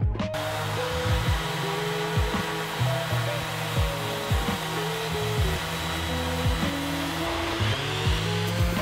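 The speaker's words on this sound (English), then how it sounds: "I'm gonna go ahead and just sand it up." Power sander smoothing a handmade wooden vinyl record storage structure, a steady close whirring hum with faint rising and falling pitch sweeps, running alone throughout.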